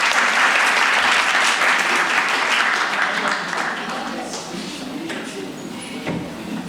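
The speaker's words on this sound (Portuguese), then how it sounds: "Uma salva de palmas para eles." Applause from the audience at a university inaugural lecture, ICSA/UFJ: a dense, steady wash of clapping that holds strong, then gradually thins and fades.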